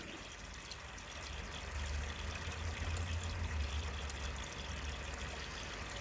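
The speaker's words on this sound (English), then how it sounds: "There we go, the water's coming up." Water pours and trickles steadily into an aquarium through a black acrylic filter, a faint continuous splashing flow that swells slightly midway, with no talk.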